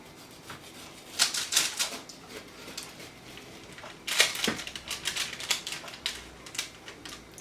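A knife cuts through gooey brownies in a tray, producing bursts of crisp crackling and scraping strokes with sharp crunches between quieter pauses.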